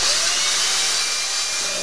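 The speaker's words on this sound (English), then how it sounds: "I'm gonna keep drilling until the drill bit hits the stop point." A power drill bores a hole during a Statorade injection repair, its motor whining in a steady, loud, continuous drone without pauses.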